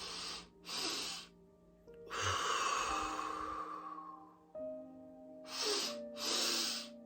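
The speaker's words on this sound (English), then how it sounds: "what you want to do is a double inhale, long exhale" A breathing exercise of two quick inhales followed by one long, slow exhale, repeated twice at close range, with no other sound around it.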